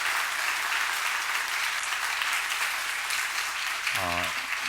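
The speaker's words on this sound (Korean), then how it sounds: "우리 하나님께 영광의 박수 한번 올려드릴까요?" Church congregation at a Sunday service applauding together, a steady dense clapping wash that holds at even loudness the whole time, with a brief sung or hummed tone rising near the end.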